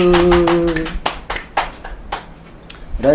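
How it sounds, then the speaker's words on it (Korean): A church congregation claps during a Sunday worship service, a short burst of hand claps after a sung or spoken note at the start, fading into scattered claps before a voice returns. "주님께 영광의 박수"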